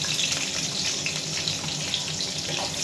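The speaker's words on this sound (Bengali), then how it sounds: "পেঁয়াজটা একটু ভেজে নেব।" Onions frying in oil with cumin seeds: a steady, even hiss and sizzle that holds at moderate loudness throughout, close up and without talk.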